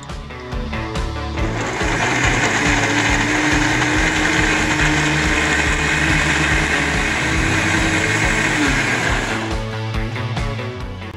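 A blender grinds spices, chopped ginger and a tomato into paste, a loud sustained motor whir that starts up, holds steady for several seconds, then winds down, with no talking.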